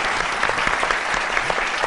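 An audience at a televised entertainment lounge show breaks into steady, even applause, a dense continuous wash of clapping heard alone at moderate volume.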